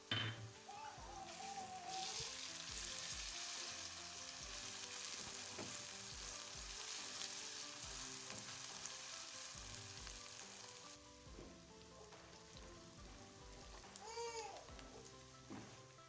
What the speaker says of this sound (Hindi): और अदरक लहसुन के पेस्ट को भी हल्का सा भून लेंगे।